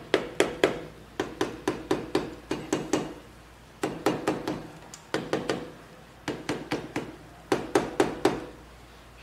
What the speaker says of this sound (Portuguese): Então agora eu vou dar umas pancadinhas com um martelinho de borracha